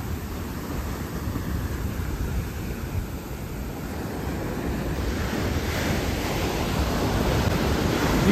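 Sea waves wash up the shore in a steady roaring surf that swells louder toward the end, mixed with buffeting wind on the microphone, with no talking.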